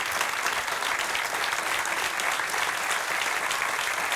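An audience at an event in the Ajaccio area of Corsica gives dense, continuous applause, steady and moderately loud throughout, with no speech over it.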